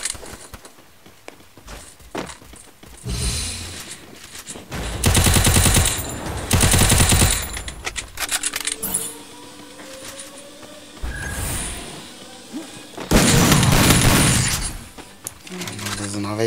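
Bursts of rapid automatic gunfire from a video game come in several loud volleys, with a person talking between and under them.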